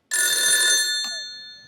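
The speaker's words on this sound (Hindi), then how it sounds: "एक सेकंड में अपने दोस्त को फोन लगाता हूँ" A telephone bell rings loudly and close during a phone-a-friend call on a comedy show stage, one sustained metallic ring trailing off, with a short tap partway through.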